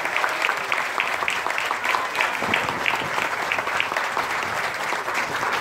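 Steady, dense applause from a crowd at an outdoor political speech on a street in Pénjamo, Mexico, clapping continuously and fairly loud for several seconds without a break.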